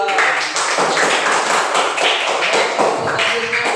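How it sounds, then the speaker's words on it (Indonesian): A classroom of pupils claps together for a group of classmates, a close, loud and steady patter of many hands lasting a few seconds. "Tepuk tangan untuk kelompok dua"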